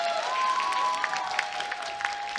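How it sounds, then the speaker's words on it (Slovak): An audience at the FanAsia 2025 original costume competition applauds the contestants, a warm, sustained round of clapping with a faint tonal hum of music or feedback running underneath. "Ešte raz veľký potlesk pre nich"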